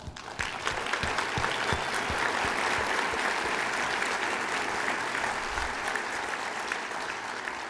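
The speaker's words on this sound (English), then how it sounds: "Team Marion, you deserve a round of applause" An audience at a city's State of the City address gives a sustained round of applause, dense continuous clapping from a large crowd, loud and even throughout.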